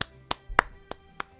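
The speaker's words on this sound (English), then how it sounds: "My hands, look, I'll clap." Five sharp hand claps ring out at an even, unhurried pace, close and crisp against a quiet background.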